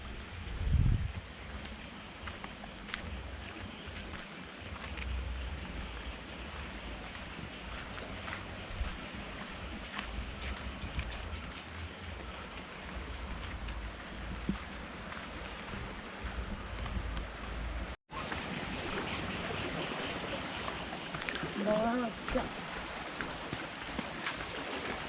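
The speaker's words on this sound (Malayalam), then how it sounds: "വെള്ളത്തിൻ്റെ ഒഴുകുന്ന ഒച്ച കേൾക്കാൻ നല്ല മനോഹരമാണ്." Fast stream flowing through a rainy Kerala village at Venjaramoodu, a steady broad rush of water heard throughout, fairly faint, with a brief cut near the end and no talk.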